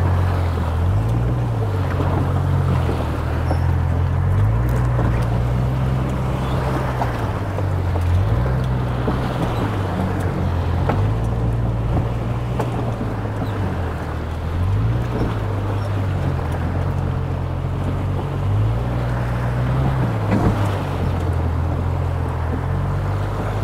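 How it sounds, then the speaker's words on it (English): Water gushes and rushes steadily around a vehicle fording a shallow river crossing on an off-road trail near Toquerville Falls, with a loud, continuous churning wash over a low rhythmic engine drone. "Look at this water just gushing everywhere."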